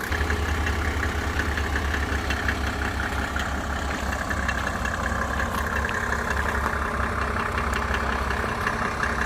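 A Mercedes-Benz W210 with an OM606 diesel engine idles cold, just started, making a loud, steady, rough diesel rumble with a fast even clatter that runs unbroken throughout, heard up close with no talking.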